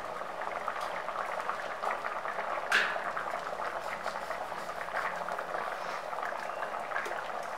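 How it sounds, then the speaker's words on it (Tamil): Tamarind gravy with broad beans bubbles in a pot, a steady close simmering hiss with soft popping bubbles and one brief clink, continuous and alone. "இப்போ பச்சை வாசம் போகிற அளவுக்கு அந்த புளி கொதிச்சு காய் வெந்துருச்சு"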